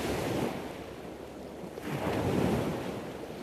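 Ocean waves roll and wash continuously, a broad surf roar that swells near the middle, with wind buffeting the microphone throughout.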